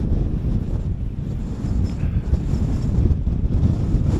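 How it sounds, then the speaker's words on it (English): Bitter wind on a Lake District fell roars and buffets against the microphone in a continuous, loud, low rumble that never lets up. "that wind's bitter"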